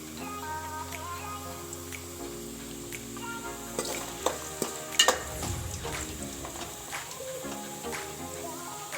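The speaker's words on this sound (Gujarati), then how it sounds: "વચ્ચે વચ્ચે આ રીતે હલાવતા રહીશું જેથી નીચે બટેકા બેસે નહીં" Potatoes fry in a pan over a low flame and are stirred now and then, giving a low sizzle with a few sharp spatula scrapes and taps in the middle, close and fairly quiet.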